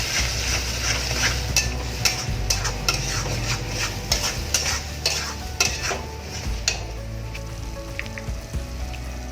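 Spices go into a pan of Punjabi chicken curry with tomato paste and Kashmiri red chilli powder, stirred hard: a steady close sizzle under repeated scraping and clinking strokes of the spoon against the pan, with no talking.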